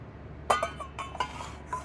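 A metal spoon clinks sharply against a bowl a few times while ground neem leaf paste is added, light ringing taps spaced irregularly over a quiet room.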